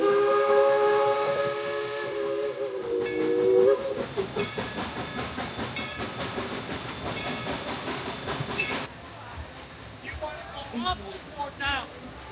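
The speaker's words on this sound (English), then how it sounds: "Here comes the train." A Dollywood steam train blows a long, loud whistle with a steady hiss, then rumbles past with rhythmic chugging and clattering wheels, followed by fainter hissing and squeals as it moves along.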